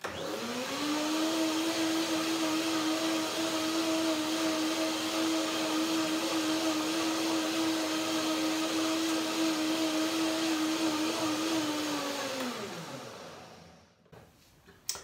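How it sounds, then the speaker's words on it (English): A blender blending cashew cream runs with a steady high whirring whine for about twelve seconds, then winds down and stops, followed by a few faint clicks. "And now 1 more blender dance, and there we go."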